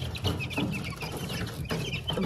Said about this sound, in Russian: Вот такие уже большие цыплята.